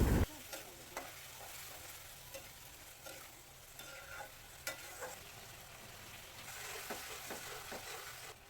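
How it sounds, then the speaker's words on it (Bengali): Onions and spices stirred and frying in a pan with a little added water, a steady soft sizzle with scraping stir strokes throughout, close and moderate in level. "মশলা সব দেওয়ার পর ভালো মতন কষিয়ে নিবে মিক্সড করে নিবে"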